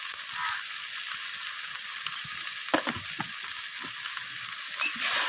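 Garlic and ginger paste with salt being stir-fried in a pan, a steady bright sizzle with scattered scraping spatula strokes and clicks, close and without talk.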